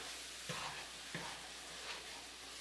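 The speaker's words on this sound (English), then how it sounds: "Stir everything all together." A spoon stirs the ingredients for a slow cooker lasagna in a pot, giving a soft, steady scraping and swishing with a couple of brief knocks, faint and alone.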